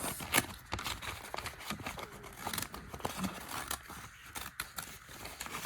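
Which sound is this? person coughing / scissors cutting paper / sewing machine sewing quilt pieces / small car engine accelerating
scissors cutting paper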